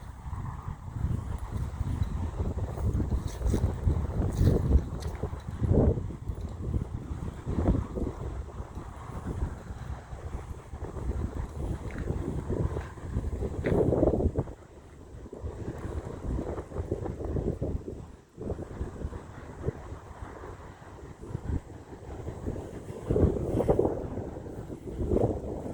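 Wind blows steadily outdoors in West Lawn Cemetery, a loud gusting rumble buffeting the microphone for the whole stretch, with brief lulls and no talking.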